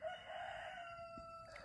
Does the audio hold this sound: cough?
no